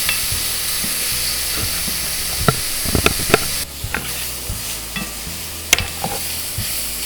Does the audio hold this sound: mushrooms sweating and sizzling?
yes